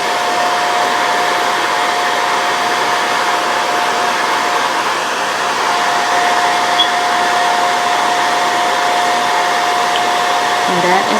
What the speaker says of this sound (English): now I'm going to use my blow dryer to just blow them off